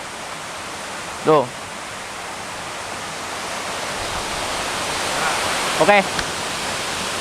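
Waterfall in the background, a steady broad rushing roar that stays even throughout, with two short spoken words cutting in over it.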